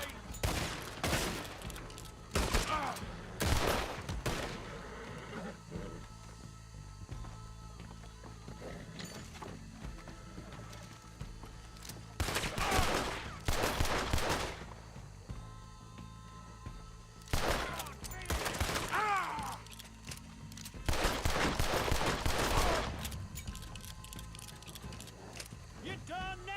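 Loud bursts of gunfire in a Red Dead Redemption style video game shootout come in several clustered volleys with pauses between, with shouting voices mixed in.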